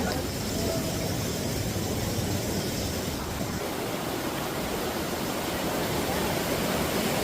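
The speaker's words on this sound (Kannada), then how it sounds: "ಇವಾಗ ಮತ್ತೊಂದು ಫಾಲ್ಸ್ ಬಂತು, ನೋಡೋಣ." A waterfall and river on the Netravati trek roar as a constant dense rush of water, close and loud throughout, with no clear talk.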